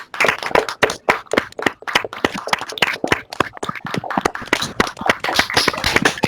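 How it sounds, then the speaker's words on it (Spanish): Participants in an online video-call conference applaud a guest speaker, with dense, uneven clapping from several people in different places running for a few seconds without anyone talking. "y un fuerte también aplauso."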